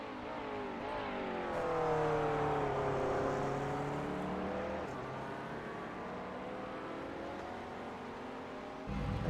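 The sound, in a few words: GT3 race car crossing finish line at Bathurst, racing video game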